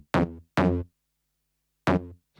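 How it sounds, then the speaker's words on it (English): Detuned, wide synth bass from an Output Substance preset with another layer beneath it plays three separate punchy notes with pauses between them, and a fourth begins at the end. It sounds clean, close and alone. "So this one has like a detuned wide feel to it."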